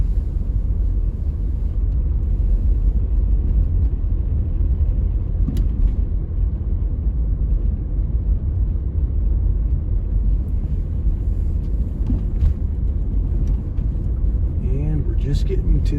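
Steady low road rumble comes from a car driving slowly through the Pleasant Valley Estates residential subdivision in Helena, Montana. It continues evenly throughout, with faint scattered clicks and a voice speaking over it.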